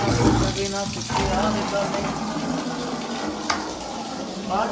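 Water gushes from a tap into a bucket, a steady splashing stream heard up close while people talk over it.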